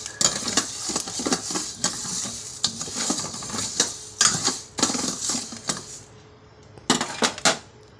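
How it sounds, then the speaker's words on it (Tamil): Sago pearls are roasted in a pan and stirred repeatedly, giving a dense rattling, scraping clatter with sharp spoon knocks against the metal, close up, pausing briefly near the end. "அதுக்காக 100 கிராம் ஜவ்வரிசி எடுத்துக்கோங்க. நல்லா வறுத்துக்கோங்க."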